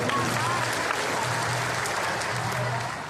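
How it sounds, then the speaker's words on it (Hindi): A big crowd at an outdoor political rally in Chopan, Sonbhadra, applauds loudly in a continuous roar of clapping, with a low voice or amplified hum faintly audible beneath. "और उनके उपचुनाव के प्रत्याशी श्रवण भाव जी के लिए जोर से ताली बजाइए आप"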